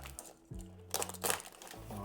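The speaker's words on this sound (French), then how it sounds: "je vais essayer d'enlever le scotch" Tape is peeled off the plastic packaging of a Hasbro Marvel Legends Captain America toy shield, giving brief crinkling and tearing crackles, close by, with a low hum underneath.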